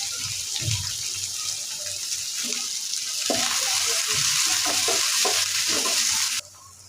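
Onion and green chillies fry in a pan for a salted hilsa curry, a bright hiss that swells louder partway through with clattering stirs, then cuts off abruptly near the end.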